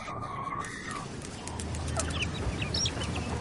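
Chickens clucking and chirping in a farm setting, several birds close by with short soft calls scattered over a steady low background.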